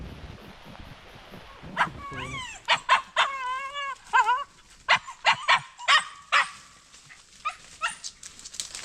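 A dog barks and yelps in an outdoor setting, with a burst of whining yips followed by a run of sharp, loud barks in an uneven rhythm, close by.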